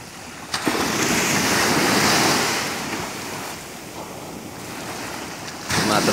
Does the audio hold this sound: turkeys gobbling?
no